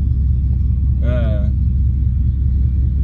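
A bagged OBS truck on air suspension idles with a steady low rumble as it backs up and creeps forward. A voice cuts in briefly over the engine.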